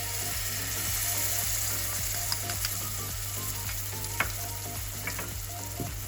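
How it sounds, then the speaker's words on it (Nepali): A paste of cumin, coriander and chili powder fries in a pan for a mustard fish curry, a steady close sizzle with scattered sharp crackles and pops over a low constant hum, and no voices. "अब अघि मैले पेस्ट बनाएको जिरा धनिया चिल्ली पाउडरको पेस्ट राख्दैछु"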